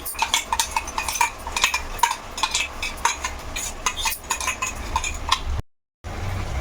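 Masala paste stirred into chicken curry in a pot, a steady run of scraping and clinking strokes from the spoon against the metal, close and rhythmic, then a brief dropout.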